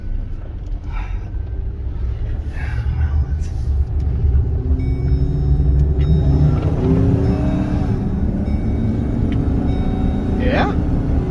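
A 2013 Chevy 2500HD pickup truck climbs a driveway, its engine a steady low rumble that builds slightly as it goes, heard from inside the cab with faint wind noise and some talk.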